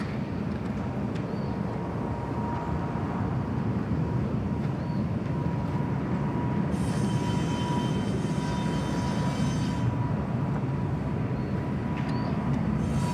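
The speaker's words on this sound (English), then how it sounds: "I expect a nice long takeoff roll here from the 777." Boeing 777 takeoff roll at Bangkok Suvarnabhumi Airport: a steady, broad jet engine roar that holds throughout, with a higher whine joining midway, heard from a distance without talk.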